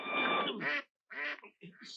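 A duck quacking in three nasal, harmonic bursts: a long call, then a shorter one after a brief silence, then a choppy final quack, all loud and close.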